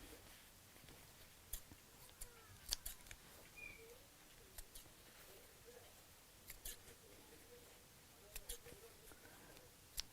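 Scissors snipping fabric bunting pennants apart, a scattering of faint, quiet snips and small clicks spaced irregularly over a soft background hiss.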